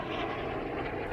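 An airplane flying low overhead gives a brief, steady, loud roar of engine noise with no other sounds over it.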